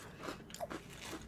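A crunchy sweet dessert snack is bitten and chewed close up, giving several crisp crackling crunches in an irregular rhythm, quiet and with no talking.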